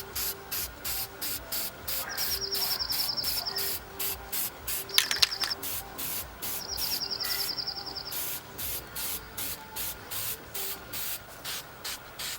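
Short bursts of spray paint hiss as a BMW E46 M3 roof rail moulding gets a closer, heavier coat, the sprays coming in a steady on-off rhythm with brief pauses between passes, loud and close.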